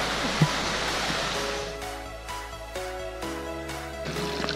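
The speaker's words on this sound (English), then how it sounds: "This is our first fountain of the trip." Water splashes steadily in a street fountain decorated with hieroglyphics in Rome, a constant close rushing hiss broken by faint tonal hums and background city noise.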